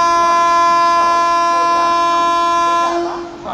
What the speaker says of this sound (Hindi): तो निकल रही है ये पश्चिम एक्सप्रेस